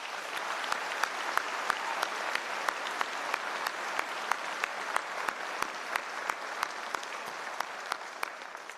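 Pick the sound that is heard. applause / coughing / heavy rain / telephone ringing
applause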